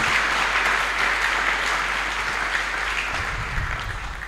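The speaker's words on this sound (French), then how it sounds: "Est-ce que quelqu'un peut acclamer très fort pour le Seigneur?" Church congregation applauding loudly and steadily, a dense wash of clapping with cheers that holds throughout, easing slightly near the end.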